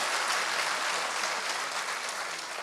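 An audience at an Urdu mushaira in Jaipur applauds poet Adil Rashid, a dense, continuous wash of clapping at moderate level, steady throughout with no voices.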